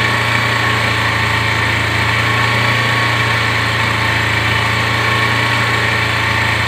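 A motorcycle engine idles steadily and loudly up close as the throttle is eased slowly, a constant buzzing drone with a low hum and no breaks.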